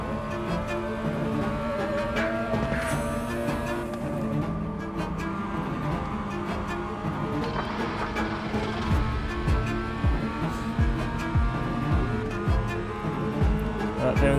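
A race car engine in the iRacing simulator drones and revs continuously, rising and falling through gear changes and braking, with the engine tone steady and prominent throughout.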